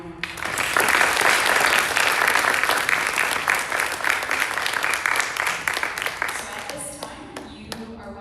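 Sustained audience applause with dense clapping for a group of high school speech and debate students at a community showcase, loud and steady before thinning out near the end.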